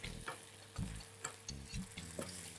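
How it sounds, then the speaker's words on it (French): Butter dropped into caramelised sugar in a pan sizzles and spits, soft bursts of crackle over a low hum, close and fairly quiet, with no talk. "j'y ajoute du beurre"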